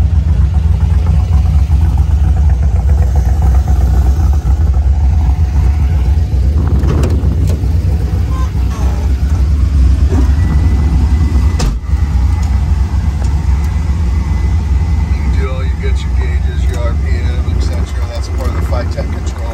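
A 1971 Camaro RS with a 500 hp LS engine drives along with a steady low rumble throughout, its engine heard from inside the car under an occasional voice.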